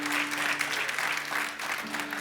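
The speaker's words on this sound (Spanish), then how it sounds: "Denles aplauso fuerte al Señor porque Él es bueno" Church congregation applauding the Lord during a service, a soft, steady wash of many hands clapping at a distance, with a low hum beneath.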